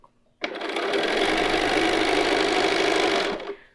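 Sewing machine stitching through a large skirt, a steady, loud, continuous whir starting abruptly and running about three seconds before stopping.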